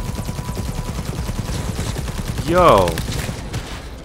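Rapid smart-weapon gunfire from the Cyberpunk 2077 video game, a steady dense stream of shots with a brief whooshing, rising sweep partway through, mixed under a player's short spoken exclamation.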